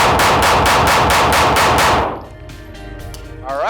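A custom SIG P365 pistol emptied in a fast mag dump: about seven loud, evenly spaced shots in quick succession, then a sudden stop leaving quiet range ambience with a faint metallic clink near the end.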